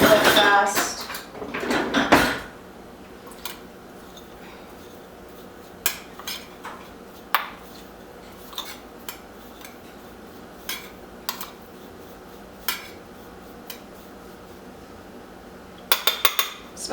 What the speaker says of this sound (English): I'm just going to go ahead and mix this up real fast